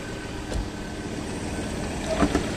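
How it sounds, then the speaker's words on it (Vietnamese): A 2016 Ford Everest Wildtrak's TDCI diesel engine runs at idle with the hood open, a steady moderately loud broadband rumble with a couple of faint clicks and no talking. "Máy dầu thì đương nhiên là nó sẽ hơi âm thanh độ to rồi một chút."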